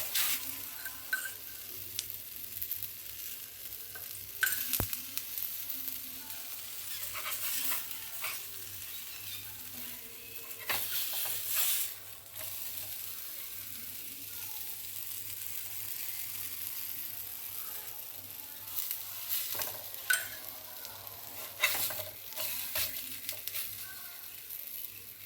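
Adai batter fries in a pan with a continuous soft sizzle, broken now and then by sharp scraping and spatula clinks against the metal, with no talking.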